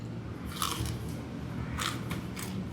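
Crisp crunchy bites into crispy fried pork knuckle, loud and close, in two separate bursts of crackling chews with no talking.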